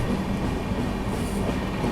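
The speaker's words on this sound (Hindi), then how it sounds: "बिल्कुल धीमी रफ्तार में पहुंच रही है अपनी ट्रेन।" A New Delhi–Patna special train rolls slowly into Subedarganj station, a steady close rumble of wheels and carriages with faint metallic squeal and no pauses.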